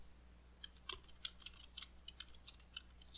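Quiet, close keyboard typing on a computer: a loose run of light, irregular key clicks over about three seconds, soft against faint background hum.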